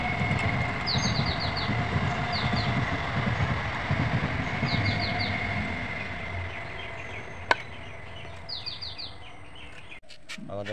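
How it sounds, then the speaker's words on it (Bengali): A passing train gives a long, steady rumbling roar that fills the scene for several seconds, while birds chirp in short bursts above it and a single sharp knock sounds near the end. "ট্রেন যাচ্ছে।"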